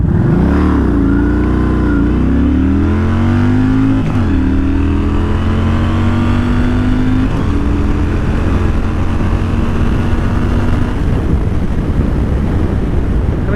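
A Yamaha Stryker motorcycle accelerating on the road, its engine note climbing through several gear pulls with brief dips between shifts, loud and close under steady wind rush.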